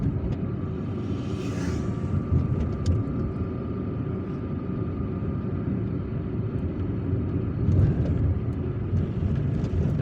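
A car drives through the quiet Friday-morning streets of Algiers, its engine and road noise forming a steady low rumble heard from inside, with faint passing noises and no talk.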